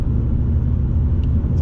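A real Japanese-market Subaru WRX cruises in fifth gear at about 62 km/h, its engine a steady low rumble and drone inside the car, loud and continuous with no talking.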